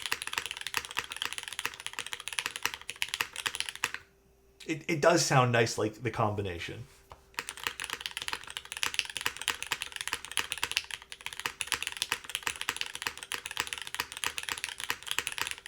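Steady, rapid typing on a Cloudline v2 mechanical keyboard with a brass top mount, close and crisp, with clicky keystrokes before and after a brief stretch where someone talks.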